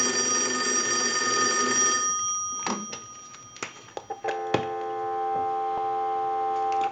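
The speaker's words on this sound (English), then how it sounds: "I'll let it ring one more time" A single-slot payphone under repair rings with a loud, continuous electric bell for about two seconds, followed by scattered clicks and then steady electronic tones.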